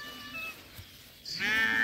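Six- to seven-month-old ram lambs offered for sale bleat at the end, a single loud close cry after a faint earlier call over quiet background.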